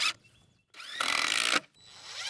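Power drill driving screws into wooden boards for a firewood rack: short whirring bursts, then a louder, sustained grinding spin close by, then a softer run as the screw seats.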